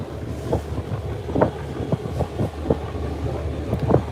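A passenger launch ship cruises on a Bangladeshi river, its engine giving a steady low rumble with regular throbbing pulses, joined by wind buffeting the microphone and no voices.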